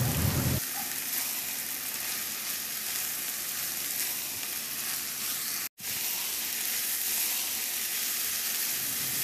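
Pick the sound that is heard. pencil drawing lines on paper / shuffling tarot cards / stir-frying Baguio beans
stir-frying Baguio beans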